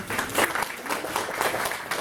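Audience applause at a children's and youth arts festival in Ukraine, a steady dense patter of many hands filling the full two seconds at moderate loudness, with no talk over it.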